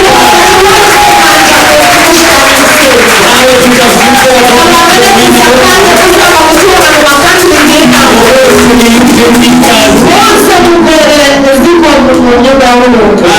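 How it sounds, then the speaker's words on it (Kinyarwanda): A church congregation gives a loud, sustained roar of cheering and shouting, with many voices overlapping in a dense, continuous din, with no clear claps heard. "Kandi reka tubahe amashyi menshi twese"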